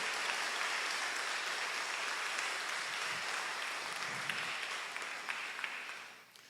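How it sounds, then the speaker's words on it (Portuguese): A church congregation applauds during an Easter resurrection service, a steady broad wash of clapping that holds at an even level for several seconds and then begins to thin out toward the end. "Você pode aplaudir? Agora é aplaudir de verdade"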